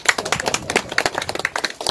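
Audience clapping at a Korean commemorative gathering for a heritage preservation society, with close, crisp individual hand claps in an irregular, fairly sparse patter.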